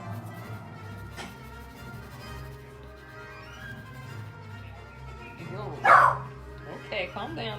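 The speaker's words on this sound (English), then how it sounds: "calm down, dogs" Dogs bark and whimper indoors while people talk over them, with one sharp, loud bark standing out near the end and softer yips scattered around it.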